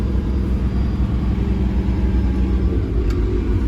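A farm vehicle's engine rumbles steadily while being driven, a continuous low, close drone holding an even level throughout with no pauses.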